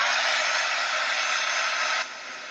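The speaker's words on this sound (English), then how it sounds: "I'm going to just use a heat gun for a bit." A heat gun blows over a wet gel plate print, a steady, close airy roar that holds level for about two seconds and then drops to a softer hiss.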